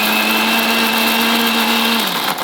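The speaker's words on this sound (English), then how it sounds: "I'll grind it now. Little more vinegar while grinding." A kitchen grinder whirs loudly and steadily as it grinds dry bombil masala with vinegar, then winds down near the end.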